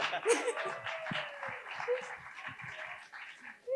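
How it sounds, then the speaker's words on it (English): An audience claps at a community block party, a brief patter of hand claps mixed with scattered voices and light chuckles rather than a full ovation. "We clap for that."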